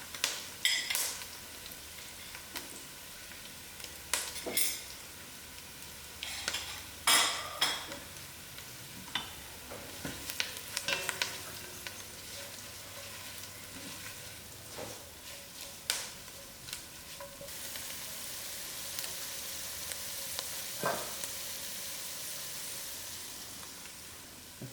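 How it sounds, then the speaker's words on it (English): Masala cooking in a pot for one-pot mutton (lamb) biryani gives a steady sizzle that swells in the last few seconds, broken by repeated scraping strokes of a stirring spoon; no voices. "now I'm going to add in my masala to cook out"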